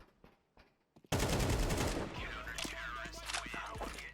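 Bursts of AK-47 fire in Counter-Strike 2 crack out loud and close after a few quiet clicks, a rapid string of overlapping shots ringing into echo.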